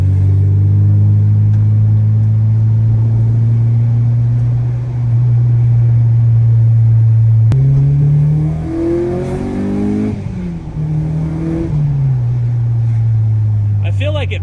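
Acura RSX Type S with a 3-inch exhaust, a loud close engine drone held steady, then rising and falling through revs mid-clip before settling back to a steady tone.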